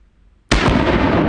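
A single loud blast from a Cyclops Thumper 50AE pocket pistol fired outdoors in freezing cold, an abrupt sharp report after near silence that rings on densely.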